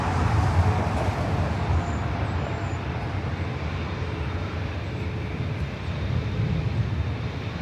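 Delta Boeing 757 taking off on runway 24 left at LAX, a broad distant jet roar rolling steadily with airport background noise and no clear voices.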